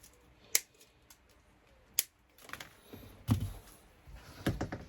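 Scissors snipping through a strip of Velcro, with two sharp, isolated cuts followed by softer rustling and handling noises close by.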